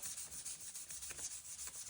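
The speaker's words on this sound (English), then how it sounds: "we are sanding all of these with the 400 sandpaper" Rapid back-and-forth scratchy rubbing of 400-grit sandpaper on a car body, a steady rhythmic rasp up close with no talking.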